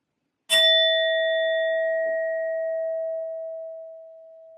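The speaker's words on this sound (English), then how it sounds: "I will be using my sound bowl to clear and set the energy" A single strike on a sound bowl rings out clearly, leaving a pure sustained tone with bright overtones that slowly decays over several seconds with no talking.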